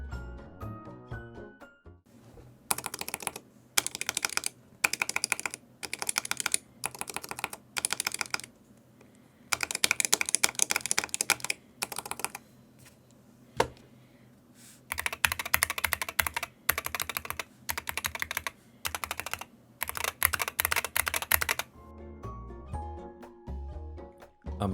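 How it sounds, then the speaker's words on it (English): Rapid bursts of keystrokes on Yiqian red magnetic switches and on Lekker switches, several close, crisp runs of typing separated by short pauses, with no talking. "Here's a sound test of the yiqian reds compared to the lekker switches."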